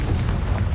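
A Confringo spell explosion in Hogwarts Legacy, a deep, loud booming blast with heavy low rumble that fills the whole brief moment, close and without any voice over it.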